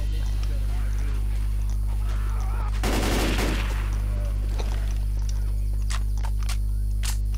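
Short bursts of gunfire erupt in a quick volley amid steady background noise in Left 4 Dead 2, followed by a few isolated sharp shots.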